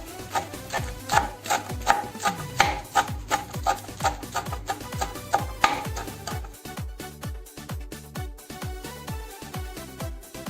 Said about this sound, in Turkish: Kısırımızın böyle iç malzemelerini doğradım, güzel hazırladım.